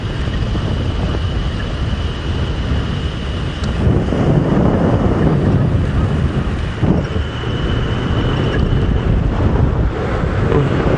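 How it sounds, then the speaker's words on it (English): Heavy wind batters the microphone on a dam wall during a safari drive, a continuous low roar that swells into stronger gusts partway through, with no talking. "You can probably hear the wind."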